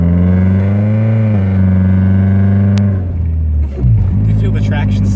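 A 1997 BMW Z3 with a loud exhaust drones steadily while driving, a deep continuous engine tone that shifts pitch partway through as the throttle changes, close and dominant, with a voice speaking over it.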